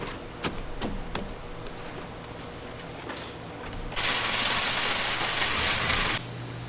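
A greenhouse tray-filling machine runs with scattered mechanical clicks and knocks, then a loud, steady rushing whoosh kicks in for about two seconds before dropping back to a lower mechanical hum.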